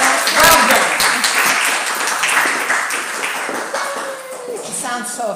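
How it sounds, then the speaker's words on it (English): A seminar audience applauds after a speaker is introduced, with steady dense clapping that stays loud across the whole stretch and fades a little toward the end. "give me a round of applause for Linda West"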